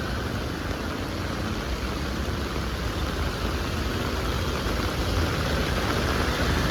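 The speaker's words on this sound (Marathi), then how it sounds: "शांत आवाज आहे का पावसाचा फक्त आणि गाड्यांचा." Steady rain falling on a Kurla street in Mumbai, a dense, even hiss with a low rumble of passing vehicles blended underneath, no voices.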